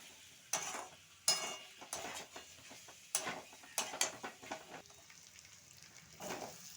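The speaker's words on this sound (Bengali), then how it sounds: "ভালোভাবে একটু কষে নেব।" Pieces of chicken nihari meat are sautéed in a pan, giving a quiet sizzle broken by irregular scraping and clacking strokes of a spoon against the metal, close and without voices.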